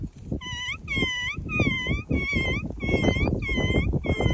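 A voice imitates a dog with a string of about eight howling, yelping barks in a steady rhythm, with some background chatter.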